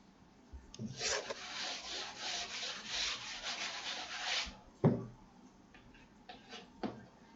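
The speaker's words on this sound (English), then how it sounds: "So I am rubbing the board." A classroom board being wiped clean, a steady rough rubbing swish lasting several seconds, then a knock and a few shorter scrubbing strokes, close and alone.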